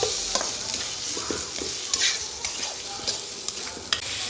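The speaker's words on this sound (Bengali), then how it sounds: "টমাটো দিয়ে দেখো মশলা কষিয়ে নিয়েছি মিডিয়াম হিটে" Spice paste cooks down with tomato over medium heat for a pabda fish curry, giving a loud, continuous sizzle. Repeated spoon taps and scrapes from stirring sound through it, with no voices.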